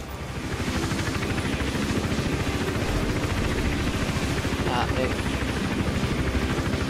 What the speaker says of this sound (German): Wie lange soll ein Helikopter ein Dach untersuchen?